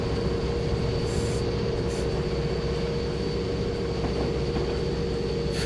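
A train in Train Simulator rumbles steadily along the track with a constant engine drone and rolling wheel noise, loud and unbroken throughout.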